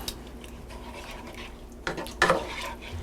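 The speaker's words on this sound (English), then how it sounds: "stir that around to break up that flour and butter, the roux." A spoon stirs a cold flour and butter roux in a pot, with soft continuous scraping and a couple of sharper clinks against the metal near the end, close and fairly quiet.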